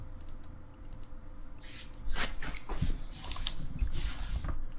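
Computer keyboard typing during a podcast recording: rapid irregular clicks and taps, close and moderately loud, over a steady background hum.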